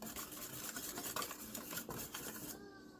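Wet strawberry cheesecake donut batter being stirred into the dry ingredients in a mixing bowl, close wet scraping and utensil clinks against the bowl that stop abruptly near the end.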